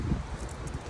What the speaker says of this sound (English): It's so windy up here; it's about to blow over.